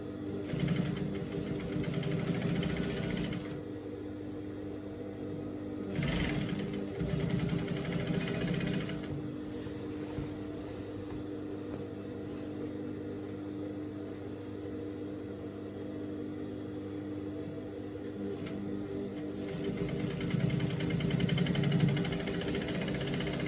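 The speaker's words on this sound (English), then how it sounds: "Now I'm sewing this on the right side of the pant," A sewing machine stitches a waistband onto the right side of a pant, running in three separate close bursts of rapid whirring with quieter pauses between them.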